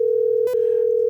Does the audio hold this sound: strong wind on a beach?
no